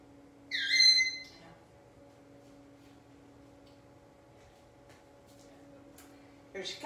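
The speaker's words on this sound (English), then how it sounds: "I'm sorry that bird is yelling." A pet bird gives a single loud, shrill squawk indoors, followed by a quieter chirp after several seconds, over a steady electrical hum.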